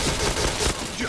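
Rapid gunfire bursts from the first-person shooter Point Blank fill this short stretch, dense overlapping shots at steady loudness with no talk.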